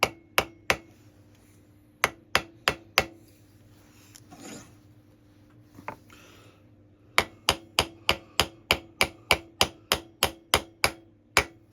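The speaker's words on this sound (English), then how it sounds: "We'll take our nipple, hold it in a pair of pliers and just drift it in." Sharp metallic taps drive a vacuum nipple, held in pliers, into an HS2 SU carburettor. A few spaced blows come first, then after a pause a steady run of quick, evenly timed strikes, close and clear with no talk.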